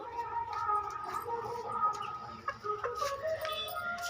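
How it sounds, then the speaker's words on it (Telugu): Kadaknath hens clucking and murmuring in a small backyard flock, soft repeated calls at moderate distance, steady and unhurried with a few brighter squawks. "నా దగ్గర ఉన్నటువంటి కోళ్ళల్లో కొన్ని కొత్త కోళ్ళు తీసుకొచ్చాను"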